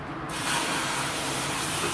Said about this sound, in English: I just want to spray it down a little bit.